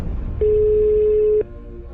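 A single steady telephone ring tone sounds once for about a second on an unanswered call, then cuts off, leaving quiet room hiss.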